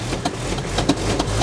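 The engine of a Toyota Hiace off-road camper van runs steadily nearby, a continuous low mechanical hum with faint ticking.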